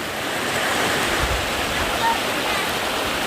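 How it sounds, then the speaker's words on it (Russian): Waterfalls on the Zhigalan river pour in a dense, continuous roar of rushing water, broadband and steady, heard up close with some wind buffeting the microphone. "именно в это время река наиболее полноводна, и водопады наиболее яркие"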